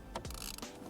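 A ratchet wrench clicks briefly while undoing a T30 bolt on the back of a Honda Civic steering wheel, a quick burst of close, sharp mechanical ticks.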